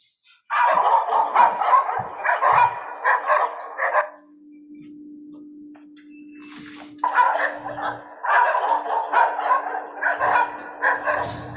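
Many dogs at a doodle puppy mill bark and yip in loud, dense bursts, pausing briefly before another chaotic round of barking; a faint steady hum runs through the quieter gap.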